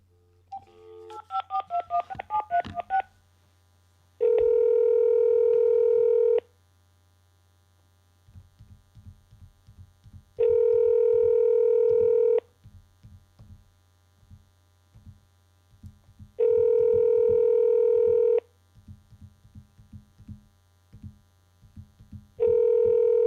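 A burst of touch-tone dialing on a telephone line, followed by a long tone that repeats in even bursts about every six seconds. Faint clicks and a steady mains hum sit between the tones.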